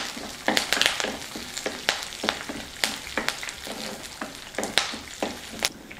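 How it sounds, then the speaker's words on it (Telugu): Garlic cloves, dried red chillies and curry leaves sizzle in hot oil in a pan as a tempering for a snake gourd fry, with close, sharp crackles and pops over a steady fry and occasional stirring. "పోపు వేగుతుంది"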